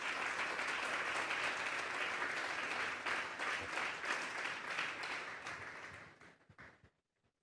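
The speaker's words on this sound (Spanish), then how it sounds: "Denle un fuerte aplauso pues al Señor esta tarde." A congregation at a Sunday church service claps steadily in dense, sustained applause that thins out and stops near the end.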